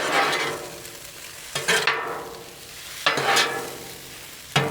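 Yakisoba stir-fry noodles sizzling on a Blackstone griddle, with a steady close hiss broken by scraping strokes of a spatula tossing and mixing the noodles.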